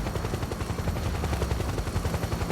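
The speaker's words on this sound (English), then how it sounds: "PMC airstrike." A PMC airstrike in Metal Gear Solid 4, a dense, loud, rapid rattle of gunfire and blasts pulsing steadily over a heavy rumbling roar for a couple of seconds, with no speech.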